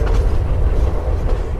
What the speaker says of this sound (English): This is from the train sound story.